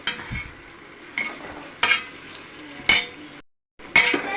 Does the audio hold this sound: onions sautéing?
yes